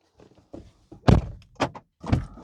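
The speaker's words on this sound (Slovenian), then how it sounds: "jaz bom zaprl vrata" A car door is shut from inside during a headlight repair on a car, giving one loud, close thud after some faint shuffling and knocks, followed by two more solid knocks.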